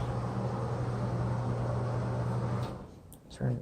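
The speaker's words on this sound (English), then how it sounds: "Hair dryer." A hotel bathroom hair dryer in the Luxor Pyramid Queen Room blows as a steady whirring hiss, then switches off sharply. A brief clatter and a short voice follow in the quieter room.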